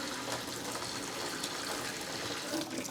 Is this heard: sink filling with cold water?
yes